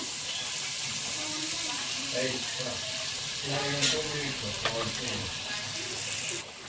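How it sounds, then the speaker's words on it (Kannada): Butter sizzling in a hot pressure cooker while chicken biryani is being made, a steady broad frying hiss running throughout with a brief clatter of utensils near the end, close and moderately loud. "ಈಗ ಕುಕ್ಕರ್ ಬಿಸಿಯಾಗಿದೆ ಸ್ವಲ್ಪ ಬಟರ್ನ ಹಾಕ್ಕೊಳ್ಳೋಣ"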